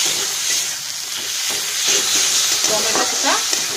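Spice paste with green chillies and salt is stir-fried in a pan for a Bengali boal fish curry, giving a continuous close sizzle broken by repeated scraping strokes of a spatula.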